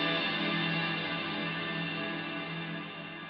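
Guitar through a Harley Benton DNAfx GiT Pro with its spring reverb turned up high, a quiet, dense reverberant wash sustaining and slowly fading with no clear attacks, heard alone.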